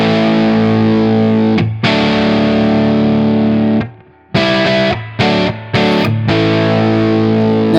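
A Gibson SG electric guitar played through its neck pickup with heavy distortion, loud sustained chords ringing out with a few brief stops and restarts, no talking over it.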